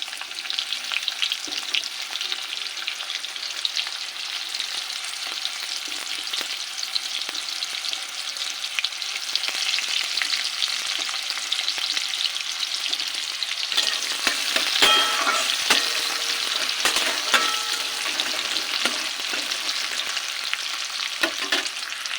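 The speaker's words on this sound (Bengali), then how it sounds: "পেঁয়াজটা ভাজা হয়ে গেছে" Chopped onion frying in a pan with whole garam masala and cumin makes a long, even, close hiss of sizzling oil. Now and then a spatula stirs or scrapes, and no one speaks.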